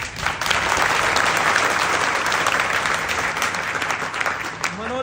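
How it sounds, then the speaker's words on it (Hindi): Sustained audience applause at a Hindu devotional gathering honouring Shani Dev, dense steady clapping from a large crowd that holds loud for about five seconds before thinning slightly at the end. "तालियां हो जाए भाई इनके लिए"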